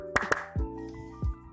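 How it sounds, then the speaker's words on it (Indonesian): Two sharp hand claps sound close together near the start, followed by a third single clap at the end, with low thumping sounds and a faint tonal hum between them. "tepuk tangan"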